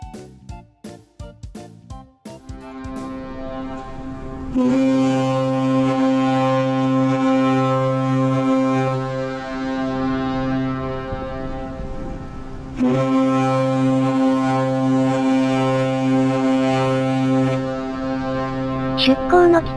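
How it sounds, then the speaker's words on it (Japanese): The Asuka II cruise ship's horn sounds on departure from Takamatsu port, with two long, deep, loud blasts separated by a pause, after some knocking and clatter at the start. "出港の汽笛が鳴りました。"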